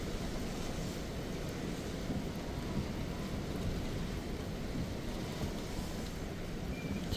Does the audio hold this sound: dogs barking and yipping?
no